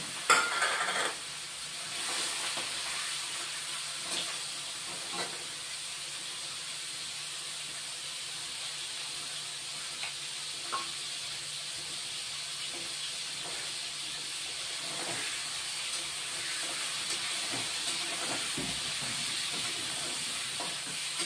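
Shrimp coated with salt and turmeric fry in a pan with a soft, constant sizzle and hiss, broken by occasional faint stirring scrapes. The sound is moderately close and continues steadily with no voices.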